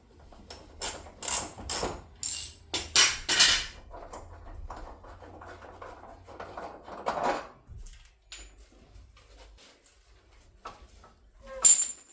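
Ratchet undoing chassis bolts on a Land Rover Discovery 2: quick bursts of clicking ratchet strokes in the first few seconds, then softer scattered metallic clinks and taps nearby, with quiet stretches between.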